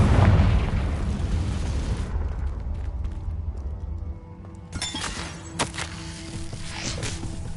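A Confringo spell in the game Hogwarts Legacy bursts with a loud booming explosion that fades into a rumbling tail, followed by crackling debris and fainter pops.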